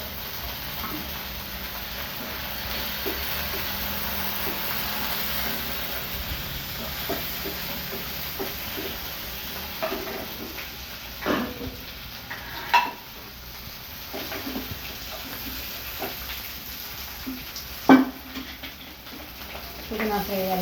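Mint leaves fry in a little oil in a pan on the stove for a chicken biryani, giving a soft steady sizzle and hiss with occasional stirring clinks and scrapes.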